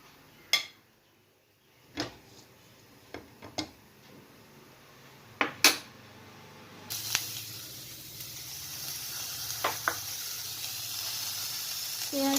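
Reserved oil poured back into a hot wok (kadai) for an ivy gourd (tondli) dish bursts into a loud, steady hiss that runs to the end, after a few sharp clinks of utensils against the pan.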